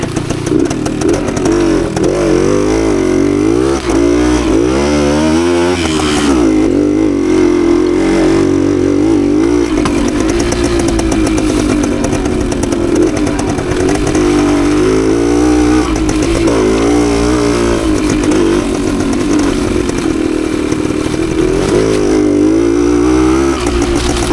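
A 52-year-old Suzuki TS185 trail motorcycle revs hard and continuously, its mid-frequency engine note rising and falling through the higher revs over about 24 seconds, close and loud with some mechanical clatter.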